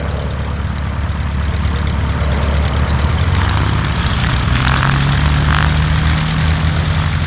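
Propeller aircraft landing at EAA AirVenture Oshkosh, a loud steady engine and airscrew drone with broad wind-like roar throughout and a rising tone toward the end, no talk.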